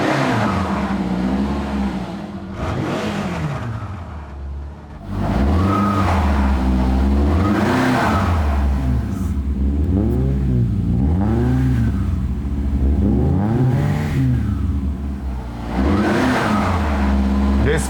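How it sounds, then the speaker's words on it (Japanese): A Subaru STI engine revs through an STI muffler, rising and falling in a series of sharp blips after a quieter idle, loud and close, while people talk now and then. "少し吹かしてみてもいい？"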